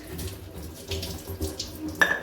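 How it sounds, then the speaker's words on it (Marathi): Cooked chickpea water with whole chickpeas is poured into a pan for a village-style chickpea curry, a continuous close splashing gurgle ending in a brief metallic clink. "आता हे पूर्ण आपण हरभऱ्याचं शिजलेलं पाणी आणि हरभरे टाकून घेतलेले आहेत"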